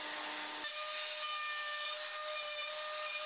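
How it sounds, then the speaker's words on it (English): A router on a leveling jig flattens the inserts of a split-top, Roubo-style hardwood workbench, starting abruptly and then running as a loud, steady, whining drone with a rough cutting hiss. "so I fired up the router"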